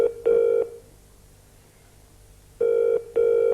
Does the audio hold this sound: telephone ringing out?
yes